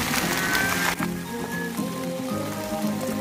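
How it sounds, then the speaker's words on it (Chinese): Sudden heavy rain pours down steadily on a trip in Taitung, a dense continuous hiss close by with no talk, and a tonal hum underneath. "突然下大雨了"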